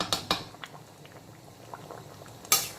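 Jackfruit and potato curry simmering in a pan over a full flame, a soft steady bubbling with a few sharper clinks near the start and end.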